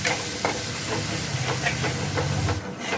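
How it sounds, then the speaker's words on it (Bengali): A pan of cumin, coriander and chili powder with a splash of water sizzles steadily, a continuous hiss close by with occasional stirring scrapes and no talk. "সব এবার ভালো করে একটু কষিয়ে নেব"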